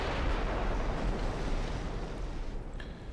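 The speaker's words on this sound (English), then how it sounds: "Heavy cruisers taking a lot of fire from the 5-inch guns." 5-inch naval guns firing on heavy cruisers in a naval battle video game, heard as a dense continuous roar of booming gunfire and rumbling blasts, loud and steady, with no voices.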